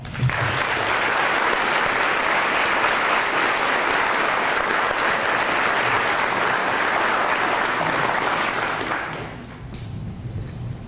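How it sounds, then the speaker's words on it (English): Audience applause at a fire department graduation in Dayton, a loud, dense, sustained clapping from a large crowd lasting about nine seconds before fading out abruptly. "please give them a round of applause"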